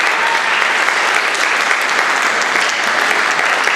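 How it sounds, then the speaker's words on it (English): A concert audience at a band's spring concert claps enthusiastically, a dense, full-room wash of applause that stays loud and even from start to finish. "round of applause for Mr. Davis and Mr. Kruger."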